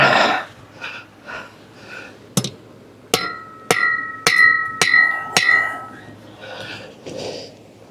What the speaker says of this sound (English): And now a rivet over here.